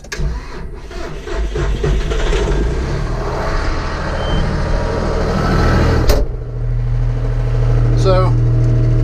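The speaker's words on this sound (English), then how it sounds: "Hopefully you'll be able to hear me over the tractor." A John Deere 5065E tractor engine runs close by, a steady loud diesel rumble that holds throughout while a person talks over it.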